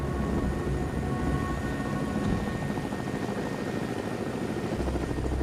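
A medical rescue helicopter with its crew, rotor and turbine roaring loud and continuous close by, a steady dense wash of engine noise with no voices.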